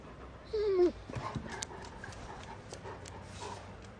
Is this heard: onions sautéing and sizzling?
no